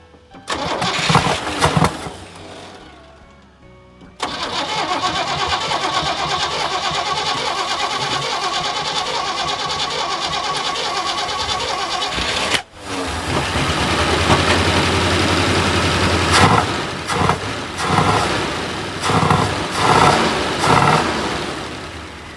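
A 1976 Squarebody pickup engine, unrun for 20 years and leaking fuel, cranks, stalls after a few tries, then catches and settles into a steady, rough idle that runs on, with revving toward the end.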